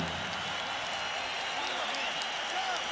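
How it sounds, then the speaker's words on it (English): A boxing arena crowd applauds and cheers after the final bout of the Gatti–Ward trilogy. The applause is a steady wash of clapping and crowd noise, with voices audible within it. "a round of applause for two warriors who gave it everything they had in this ring."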